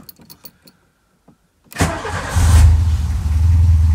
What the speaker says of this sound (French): je l'éteins et on va essayer un autre démarrage